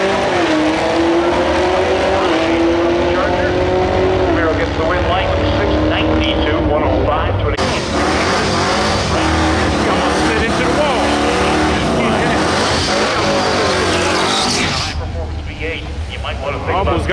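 Charger and Camaro race cars at Irwindale, engines roaring loud and close as they accelerate, rising pitch sweeps over a dense rumble, with crowd and announcer-like voices mixed in throughout.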